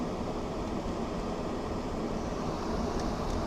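GE window air conditioner fan running on high, a steady broadband whooshing roar that holds evenly throughout, close and moderately loud, with no talking.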